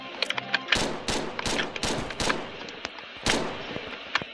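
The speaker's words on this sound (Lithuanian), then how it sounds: "Jo, jis mane šaudo." Gunfire in the online shooter game 1v1.LOL crackles in rapid, uneven bursts of sharp shots, loud and close, spread across the whole stretch with brief gaps between volleys.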